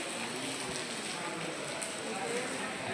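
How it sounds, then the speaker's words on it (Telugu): Heavy rain at a railway station pours down as a continuous, even hiss of drops on surfaces, steady and moderately loud with no pauses. "వాన కుమ్ముతా ఉంది బయట"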